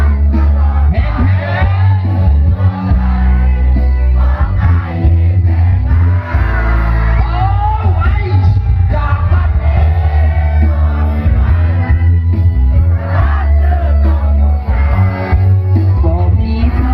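Groom's-side wedding guests at a riverside wedding shouting and cheering loudly together, a dense, sustained crowd roar with yells over steady booming music.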